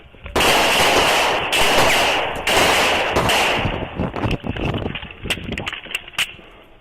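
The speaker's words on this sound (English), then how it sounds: "Shots fired" Gunfire directed at an Arkansas sheriff's deputy, loud rapid bursts of shots heard close, several sustained volleys followed by scattered sharper individual cracks, picked up by a dashcam.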